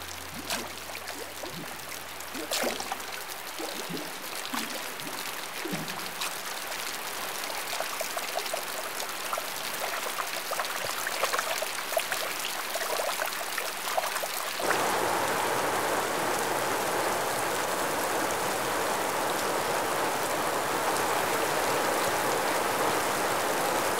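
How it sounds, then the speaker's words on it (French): A heavy tropical downpour pours in Kenya, its dense, steady hiss of rain building and swelling louder partway through into a roaring deluge, with no voices. "un déluge sans précédent."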